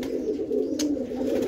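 Roller pigeons cooing in a loft, a steady close murmur of soft low coos running continuously throughout with no speech.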